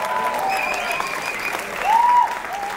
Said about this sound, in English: Please cheer up for the participants.